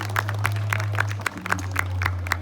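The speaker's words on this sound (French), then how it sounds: "vous pouvez les applaudir encore" Applause from an audience for dancers in traditional costume at a folk dance presentation, steady clapping carrying on through the whole short stretch with no voices over it.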